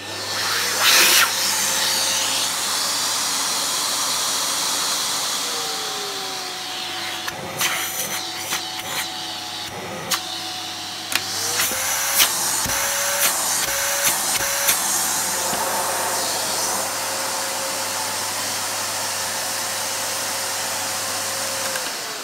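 A Panasonic Icon MC-E581 vacuum cleaner motor runs loud and steady throughout with a constant whine, while scattered clunks and short pitch shifts come from handling in the middle section.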